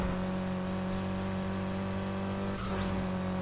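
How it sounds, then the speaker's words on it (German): A Nissan Skyline's engine in the racing game Need for Speed Heat holds a steady, droning, harmonic note throughout, with a brief shift in tone near the end and no talking. "der Sound vom Skyline, wie unfassbar echt einfach"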